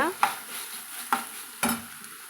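Onions frying in a pan for an onion poriyal, with three distinct scraping stir strokes cutting through a steady, close sizzle; no one speaks.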